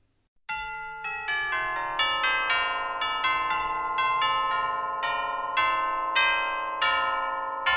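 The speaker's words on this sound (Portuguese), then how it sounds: "carrilhão" Tubular bells (chimes) played in a music lesson on sound properties: a sequence of bright, ringing metallic strikes, each sustaining and overlapping in a shimmering wash, steady and fairly loud with no voices.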